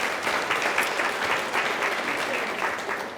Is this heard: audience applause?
yes